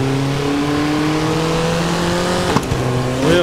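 Race car in FlatOut 4: Total Insanity boosting with nitro, a loud, close engine revving steadily higher through the gears with a brief shift dip near the end and no talk.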